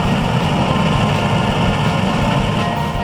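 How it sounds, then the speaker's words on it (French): A New Holland CR11 combine harvester engine drones steadily in a field during harvest, a loud, continuous mechanical roar with no pauses and no voices. "la nouvelle batteuse New Holland CR11 affronte la récolte"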